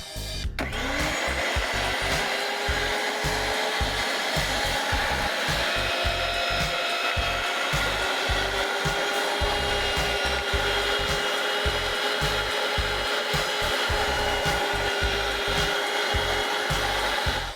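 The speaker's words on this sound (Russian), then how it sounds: "Дальше, как вы понимаете, нам при помощи мясорубки нужно прокрутить все ингредиенты." An electric meat grinder minces pork and beet, its motor whining steadily and loudly up close while a rhythmic, chunky grinding pulse repeats throughout, with no talking.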